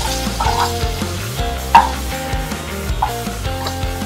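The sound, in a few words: vegetables sautéing on medium heat for chicken pot pie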